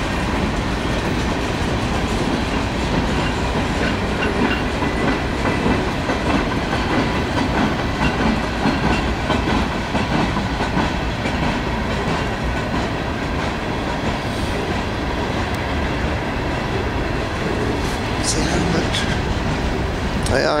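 Norfolk Southern manifest freight 153 rolls steadily past up close, a continuous loud rumble with rhythmic clickety-clack of wheels over rail joints and occasional squeals, lasting throughout.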